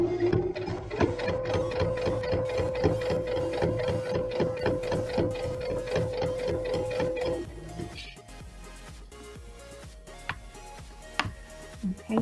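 A sewing machine runs fast, rapid stitching tags onto a baby tag blanket, its needle ticking in a dense steady rhythm for several seconds before slowing to a few scattered clicks and thumps.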